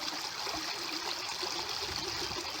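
Swollen creek water rushes over and around a bridge after flooding, a steady, dense hiss and babble from close by, continuous and even, with no voices.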